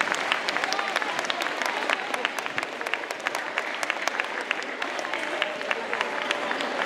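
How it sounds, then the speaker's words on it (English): A room full of people applauds a community bank at a school assembly, steady clapping with scattered sharp claps sustained throughout, some voices mixed in beneath. "Give them a round of applause."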